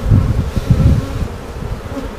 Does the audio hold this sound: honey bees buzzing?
yes